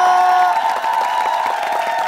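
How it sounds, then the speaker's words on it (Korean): Studio audience applauding and cheering on a Korean TV talent show stage, a dense steady wash of clapping and crowd noise throughout. "박수 부탁드리겠습니다."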